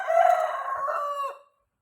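A rooster crows once near a coconut tree among hens, a loud drawn-out call that trails off and leaves silence.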